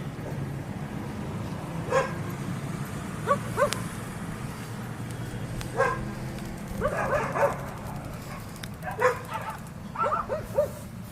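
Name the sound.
dogs barking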